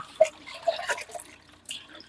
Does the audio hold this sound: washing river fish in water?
yes